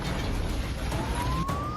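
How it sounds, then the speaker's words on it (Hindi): Air raid sirens sound across the city of Dnipro, Ukraine, during a Russian missile strike, a faint rising wail over a dense wash of background noise. "हवाई हमले के चलते पूरे शहर में सायरन बजने लगे।"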